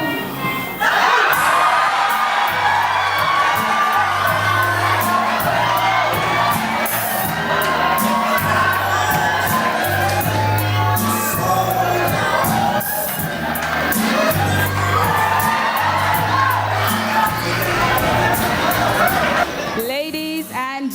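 Theatre audience cheering, whooping and shouting after a drama performance, a loud sustained crowd roar with chatter and a pulsing musical beat underneath.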